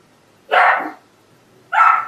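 A single dog barks twice, loud and close, with two short sharp woofs about a second apart and silence between them.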